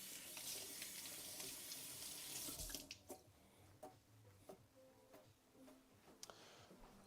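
Tap water runs steadily over a couple of fresh thyme sprigs being rinsed at a kitchen sink, then gives way to scattered drips and small splashes as the flow stops.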